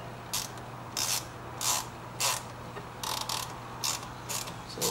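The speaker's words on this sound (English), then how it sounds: "And all we're doing is just tightening that screw for the bracket." Screw on a Blend Mount dash cam bracket for an Escort M1 camera being tightened inside a C7 Corvette, giving about eight short, close ratcheting bursts at a fairly even pace over a low steady hum.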